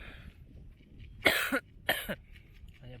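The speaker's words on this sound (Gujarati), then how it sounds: "અહીંયા ભૂગ્યા ને તો ઉધરસ ચાલુ થઈ ગઈ" Two sharp, close coughs from a tired person outdoors, about half a second apart, stand out over quiet background noise, with faint chirping before and a low murmur trailing after.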